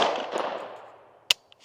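A single sharp gunshot from a newly built pistol fed by a Glock 17 magazine, loud and close, following the fading tail of an earlier report, with a faint click just after.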